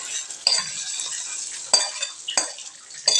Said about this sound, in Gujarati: આપણે તેને દાળમાં વઘારી દઈશું।